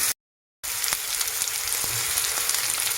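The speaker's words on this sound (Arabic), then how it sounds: "يعني مجرد ما يبدا يدبل سنه هنزل بالفلفل وادي تقليبه تاني" Onions and peppers frying in a pan for a vegetable and meat filling, a loud close continuous sizzle after a brief silent gap, with faint stirring clicks scattered through.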